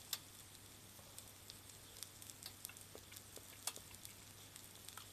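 Shiso and cartilage tsukune skewers sizzle on a hot plate, a quiet, steady frying hiss dotted with small crackles and pops, heard alone without talk.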